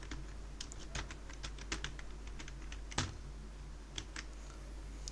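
Computer keyboard typing during an HTML coding lesson: irregular quick key clicks with a few heavier strokes, close and fairly quiet over a steady low hum, no talking.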